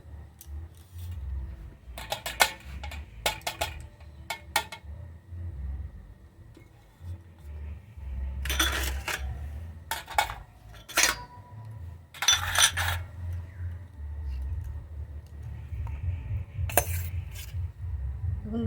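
Cooked Bengali dishes such as mutton kosha, steamed fish bhapa, moong dal with fish head and mango chutney are served onto a plate, with scattered metallic clinks and scrapes of a spoon against dishware amid quiet pauses.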